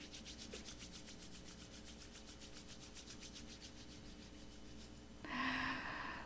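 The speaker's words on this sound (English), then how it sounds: "briskly rub your hands together" Hands rub briskly together with palms facing, a steady close swishing friction that pulses in quick rhythmic strokes, then grows louder and brighter in the last second.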